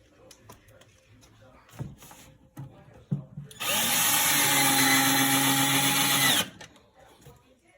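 A power drill drives a screw into a piece of 2x4 during a bay window seat build, a loud sustained whir lasting about three seconds after some scattered knocks and handling noises, with people talking around it.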